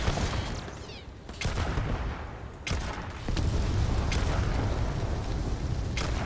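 Sustained gunfire crossfire against space pirates in the sci-fi game Starfield, with dense rapid shots and sharp cracks layered over a constant loud roar of battle, with no speech.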